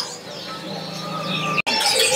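Caged local birds chirp and coo at a kiosk in Pasar Pramuka bird market, a busy layer of overlapping tweets and calls with a brief break near the end.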